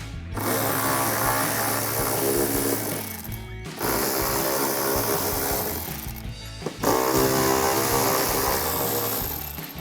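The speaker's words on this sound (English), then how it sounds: "So we'll grab our 10mm socket to take these out." Power tool driving out 10mm bolts with a socket in the wheel well of a 2010-2024 Toyota 4Runner: loud sustained whirring in three long bursts, separated by short gaps, close by and without talk.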